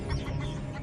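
Chicken clucking near a hunting python in the Australian bush, a short burst of close, soft clucks heard alone.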